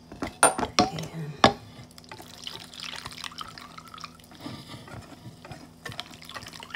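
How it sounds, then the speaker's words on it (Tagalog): Milk pours into a cooking pot for a king cake or frangipane recipe, a soft liquid stream with a few sharp clinks of utensils at the start, close and fairly quiet. "hanggang sa mailagay natin lahat yung ating milk"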